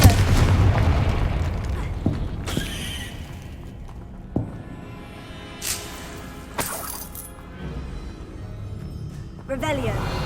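Hogwarts Legacy's Confringo fire-blast spell going off in a video game, with sharp bursts and booming impacts scattered over a busy game soundscape of combat noise, and a voice speaking in the clip.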